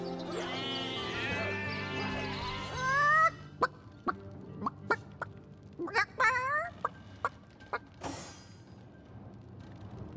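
Rooster in the fantasy role-playing game Divinity Original Sin, a sustained bleating, crowing cry followed by a scatter of sharp, separate clucks over a steady ambient background.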